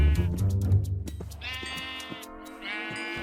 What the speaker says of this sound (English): I'm gonna get wheat and then breed 2 sheep, so hopefully we get a brown sheep